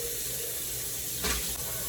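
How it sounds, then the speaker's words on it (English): Tap water runs steadily into a pot, filling it to boil for instant coffee, a continuous close hiss and splash with a brief louder surge partway through. "I boil water in my pot to make coffee"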